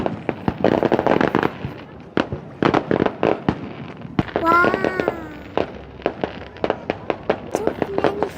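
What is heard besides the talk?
fireworks exploding at Eid celebration, Old Wakra Souq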